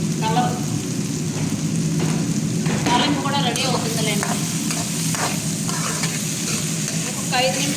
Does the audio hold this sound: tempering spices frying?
yes